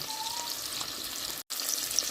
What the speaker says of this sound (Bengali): এখানে আমি পেঁয়াজটা একটু ভেজে নিচ্ছি